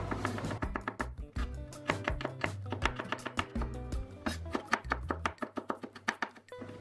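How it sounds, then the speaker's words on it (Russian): Garlic being cut into medium pieces with a knife on a board, a quick run of sharp, close chopping taps in uneven bursts, with a low musical hum running underneath. "Средними кусочками режу чеснок."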